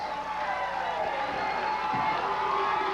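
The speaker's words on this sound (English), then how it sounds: "And the crowd loves it." A wrestling arena crowd cheers and roars, a dense and fairly steady wash of voices with no single voice standing out.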